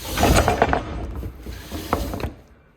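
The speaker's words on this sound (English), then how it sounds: "Here's our little roller thing in action to help us with trimming up perf." Small roller tool trimming paper perforations in a new print shop makes a short close rolling, rattling mechanical run that fades out after about two seconds.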